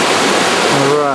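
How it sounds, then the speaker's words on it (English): Creek water rushing where Bubbs Creek feeds into the Kings River, a steady broadband roar of flowing water with a voice briefly audible over it toward the end. "right here is Bubbs Creek feeding into the Kings River"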